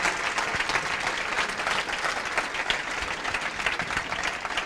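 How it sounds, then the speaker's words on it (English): An audience applauds two Italian students, a loud, continuous burst of many hands clapping together that stays strong for several seconds. "juste si vous pouvez les applaudir tous les deux, ce serait bien."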